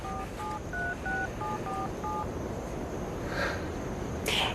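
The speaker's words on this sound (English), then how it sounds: "I'll call Hannah." A cell phone keypad dials a number, a quick run of about eight crisp touch-tone beeps with short gaps, heard clearly over a steady background hiss, followed by a faint rustle near the end.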